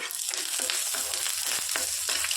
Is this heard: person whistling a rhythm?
no